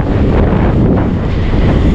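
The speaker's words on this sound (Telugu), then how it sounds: "గాలి అయితే విపరీతంగా కొడతా ఉంది." Strong wind buffeting the microphone on an Avenger 160 Street motorcycle riding a highway route, a loud continuous roaring rumble with no break for the whole stretch.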